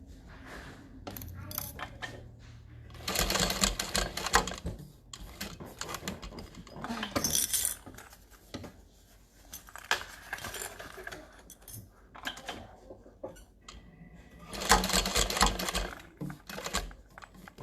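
A sewing machine stitches corners of a thick waterproof canvas tote bag, running in several short bursts broken by pauses for pivoting, with clicks and handling noises between them.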